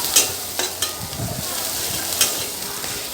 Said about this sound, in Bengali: এই যে এখন আমি আবারও ভাজতে চলে গেলাম মানে ওই যে মশলাটা ভুনা করব